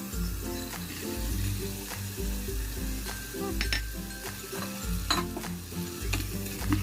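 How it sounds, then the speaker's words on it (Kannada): Cauliflower and soaked peas fry in hot ghee with a steady close sizzle, punctuated by repeated spoon stirs and scrapes, several light clinks against the pan and low rhythmic bumps underneath, with no talking. "ಇದನ್ನು ಸ್ವಲ್ಪ ಹೊತ್ತು ತುಪ್ಪದಲ್ಲಿ ಚೆನ್ನಾಗಿ ಫ್ರೈ ಮಾಡ್ತಾ ಇದ್ದೇನೆ"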